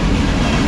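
A CSX manifest freight train rumbles past close by in a loud, steady roar with heavy low-end weight and no distinct clicks in the brief moment.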